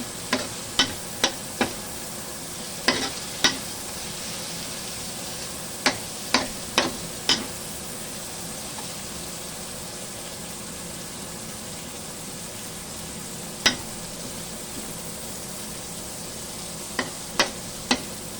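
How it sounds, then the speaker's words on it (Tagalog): Meat stirred in a hot pan while cooking canton, a steady frying hiss under a series of sharp scraping clicks of the utensil, bunched near the start and again toward the end. "Halat na natin ang ating karne."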